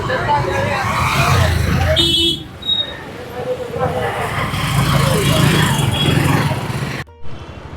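City road traffic in Bharuch hums and rumbles continuously, with engines passing close by and a short electronic beep partway through. A voice speaks over the street noise.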